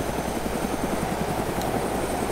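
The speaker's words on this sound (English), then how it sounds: "There we go. There's the helicopter." Helicopter in the Arma 2 video game, heard up close with its rotor chopping in a fast, steady rhythm over a dense, loud engine roar for the whole stretch, with no talking.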